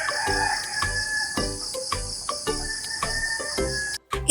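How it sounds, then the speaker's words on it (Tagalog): Chickens and insects in the yard behind a rural house: a steady insect trill runs throughout, while rooster and hen calls cut in repeatedly, fairly close, with a brief dropout near the end. "Ito nga ang likod sa aming bahay at ang mga ingay ng mga manok at insekto."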